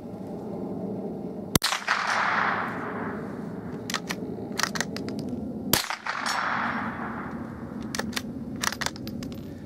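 Two sharp .22LR rifle shots from a Hatsan Escort, fired at steel targets on a long-range outdoor course, each a loud close crack a few seconds apart, followed by a fading echo and faint metallic dings.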